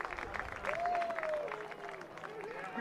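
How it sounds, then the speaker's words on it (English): A crowd at a college baseball game between UCLA and Rutgers claps along. The clapping sounds distant and moderate under a sustained tone, with crowd murmur and a commentator's voice over it. "Everybody clap your hands."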